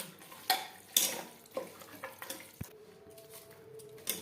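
Mutton is mixed by hand with spices and ground onion paste for a Bengali potato-mutton curry, giving quiet, wet squelches and a few soft knocks against the bowl, close and without talk.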